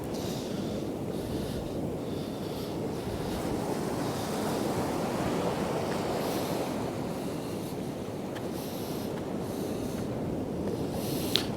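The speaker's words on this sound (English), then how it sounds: "all of a sudden big waves come flying up and go through" Ocean waves surge steadily onto a clay beach below crumbling cliffs at Happisburgh, a broad roaring wash with wind buffeting the microphone throughout.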